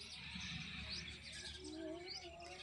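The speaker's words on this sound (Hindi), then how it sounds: "शोर आता है, आवाज़ आती है चिड़ियाओं की।" Small birds chirp in a tree near a highway, a steady stream of bright tweets and short calls filling the quiet outdoor air.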